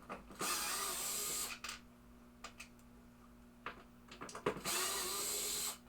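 Two screws being removed from the under-playfield mechanism of a 1962 Williams Vagabond pinball machine, with two loud whirring bursts of a power driver separated by small metallic clicks and taps, close up.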